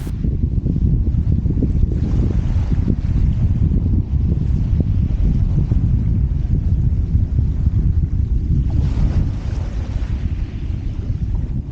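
Wind on an open beach at St Osyth buffeting the microphone, a loud continuous low roar and rumble with gusty fluctuations and faint surf beneath, no voices.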